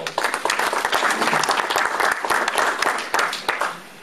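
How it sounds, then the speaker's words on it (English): Audience applause at a panel discussion, a dense, loud burst of clapping from a room full of people that continues steadily for a few seconds. "Let's give him a round of applause."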